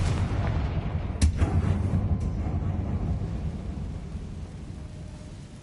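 A Confringo blasting spell in the Hogwarts Legacy video game: a sharp explosive crack about a second in, over a deep, steady booming rumble that slowly fades.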